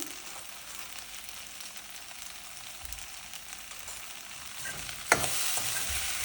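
Okra fries in a pan with a pinch of salt, giving a low, continuous sizzle. Near the end a louder scraping stir swells up.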